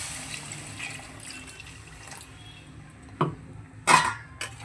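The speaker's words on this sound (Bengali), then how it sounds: "কষানো হয়ে গেছে, দিয়ে দিচ্ছি পরিমাণ মতন জল।" Water is poured into a pan of fish curry with potatoes and spices, giving soft splashing over a low sizzle, then two sharper splashes near the end, with no talk.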